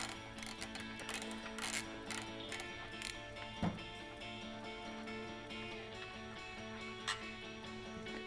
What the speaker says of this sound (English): Make sure you hold it so it doesn't fall when you get the bolt out. Just go ahead and remove the bolt